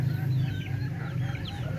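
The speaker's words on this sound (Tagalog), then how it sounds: "meron ng sisiw yung ating uh, manok na naglilimlim dyan" A brooding hen with newly hatched chicks clucks softly in short, uneven bursts close by, with faint chirps over a low background hum.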